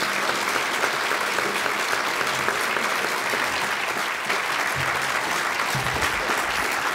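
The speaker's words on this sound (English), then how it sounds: "join me in giving a round of applause to our guests today." Steady, dense applause from a large crowd at a 2022 Alaska governor candidate forum fills the whole stretch, loud and continuous without letting up.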